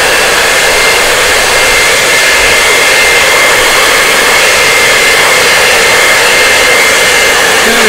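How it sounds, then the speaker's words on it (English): A hair dryer blows loud and close without a break, a steady roaring whoosh with a faint whine, used to dry paint on a garden gate. "We're going to turn the hair dryer on."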